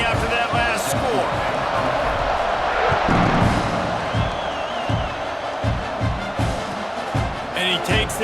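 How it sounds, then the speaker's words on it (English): A stadium crowd buzzing in College Football 26 after a score, a steady loud roar of cheering with scattered thumps and whoops, under a commentator's voice. "this crowd is buzzing after that last score"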